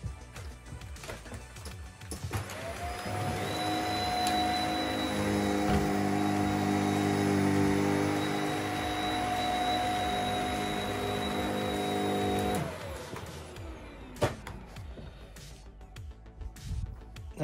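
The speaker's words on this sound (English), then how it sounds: "Now the same piece of carpet with the Shark vacuum cleaner." A Shark vacuum cleaner starts up on carpet and runs with a steady whine and hum for about ten seconds, then winds down, leaving quieter knocks and handling noise.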